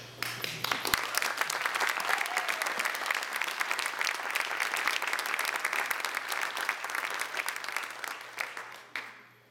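Steady, dense applause from a room full of people at an award presentation honoring a religious sister, holding even for several seconds before tapering off at the end.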